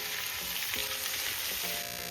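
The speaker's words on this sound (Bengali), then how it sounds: "এবার আমি পেঁয়াজকলিটা হালকা একটু ভেজে নেব।" Spring onion fries lightly in a pan with a constant loud sizzle. Soft stirring clatter sounds now and then, and there is no speech.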